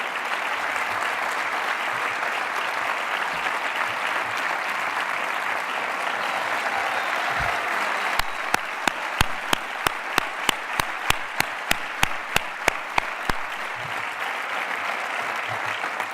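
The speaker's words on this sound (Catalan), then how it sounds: "un fort aplaudiment d'afecte i reconeixement per al president Ximo Puig" Audience applause fills a PSPV-PSOE political rally in Vinaròs, a dense sustained clapping from a large crowd, joined later by a slower rhythmic clap in unison before fading.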